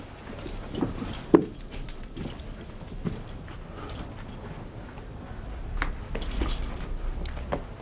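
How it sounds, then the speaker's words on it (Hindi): Metal keys jingle and clink in short bursts, with some rustling handling noise between the rattles. "ये यहाँ की चाबियां हैं।"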